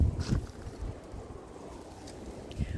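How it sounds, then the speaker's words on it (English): Strong outdoor wind buffets the microphone in low, uneven rumbling gusts, heaviest at the start and easing into a steadier rush. "it is so windy out here"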